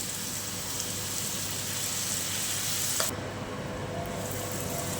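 Onion and curry leaves fry in hot oil in a pan, giving a steady close sizzle and crackle with a faint stirring sound throughout.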